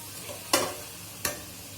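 A hilsa fish head cooking with taro stolons in a pan gives off a soft, steady sizzle, broken by two sharp scraping stir strokes about three-quarters of a second apart.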